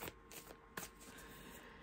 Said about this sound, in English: And as I am shuffling